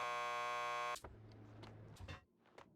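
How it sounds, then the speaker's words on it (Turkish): Door buzzer at a police station lockup in the video game Max Payne 2: one loud, harsh electric buzz holds for about a second and cuts off abruptly, followed by clunks and rattles. "Just press the buzzer by the door."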